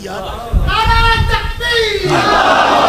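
A crowd at a religious gathering chants slogans in unison, loud and close. Sustained voiced calls swell together, with a brief rumble of many voices at the start.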